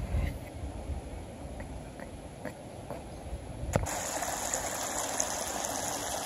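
Steady broadband rush of a shallow creek spilling over the small Stone Creek Falls, continuous and moderately loud with a few faint clicks.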